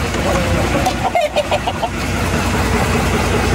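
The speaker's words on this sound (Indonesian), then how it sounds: "Ini ayam-ayamnya nih, ayam-ayam petarung semua ini." Fighting roosters and chickens cluck and squawk in a brief cluster over a constant bus engine rumble, loud and close, with no speech.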